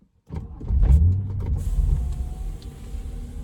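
2015 BMW M235i F22 coupe with 3.0-litre engine and manual gearbox starting up, a loud close crank and roar that settles into a deep steady idle.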